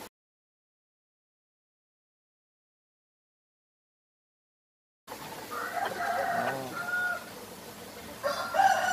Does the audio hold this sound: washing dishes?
no